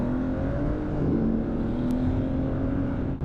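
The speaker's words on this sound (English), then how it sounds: "catch the engine sound in the tunnel here." A BMW sports car engine drones steadily at close range in a tunnel, a low sustained hum with a faint rising whine, continuous throughout with no voices.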